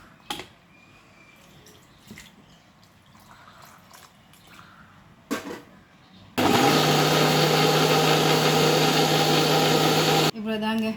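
A mixer grinder blends bottle gourd with a little water, starting abruptly loud with a steady high whirring motor roar that runs about four seconds before cutting off, after quieter kitchen sounds and brief clatter.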